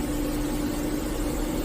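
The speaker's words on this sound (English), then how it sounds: "Here now is the low idle of the engine," New engine running at low idle during commissioning, a steady close low hum with a constant tonal drone and no variation across the short stretch.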